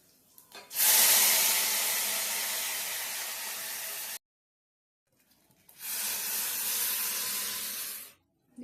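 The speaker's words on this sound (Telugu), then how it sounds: "దీంట్లోకి బీట్రూట్ రసాన్ని యాడ్" Beetroot juice hits a hot tempering of mustard seeds and curry leaves in a pan for beetroot rasam, giving two loud, steady bursts of hissing sizzle, each about three seconds, split by a brief silent gap, with no talking.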